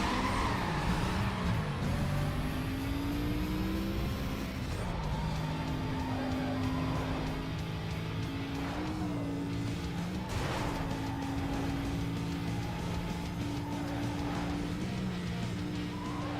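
Racing engines from a BMW and other street cars in Need for Speed Most Wanted drone steadily, with shifting gear tones and brief surges, moderately loud and continuous. No voices.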